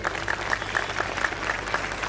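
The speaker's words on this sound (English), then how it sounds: "big round of applause for Andy sir and his team." A short burst of audience applause, many hands clapping together in a steady patter, moderately loud with no voices.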